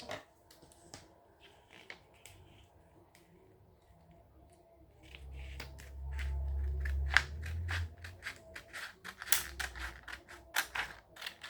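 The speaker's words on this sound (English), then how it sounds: "And I'm gonna cut this part off." Scissors snipping heat transfer vinyl, a series of short crisp cuts close by, sparse at first and then quicker, with a low rumble of handling in the middle.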